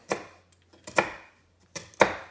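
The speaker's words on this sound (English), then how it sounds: "You want to mince them. These will be part of the mixture for the burger patties." Ginger and garlic minced with a knife on a cutting board for burger patty mixture: three separate crisp chopping strokes, close and fairly loud, spaced about a second apart with quiet between.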